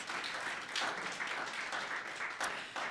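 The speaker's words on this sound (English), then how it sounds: "And a round of applause for this brand for just an amazing performance." An audience gives a round of applause at a corporate results presentation, a steady dense patter of clapping held at even loudness for the full few seconds.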